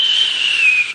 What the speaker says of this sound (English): He whistled through Edward's station